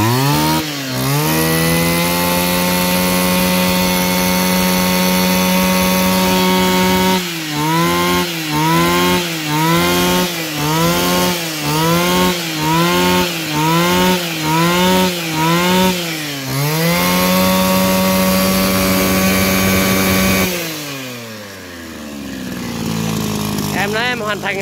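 A Hitachi GC33 chainsaw engine with a 37 mm piston, temporarily rigged, runs loud and close: steady idle, then a burst of rhythmic revving pulses, a steady high run, and a drop back down at the end.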